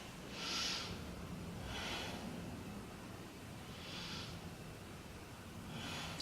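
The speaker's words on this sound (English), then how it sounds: "Take 3 breaths around your rib cage." Slow, deep breathing during a beginner yoga side stretch, with four soft airy breaths spaced a couple of seconds apart over a steady low room hiss.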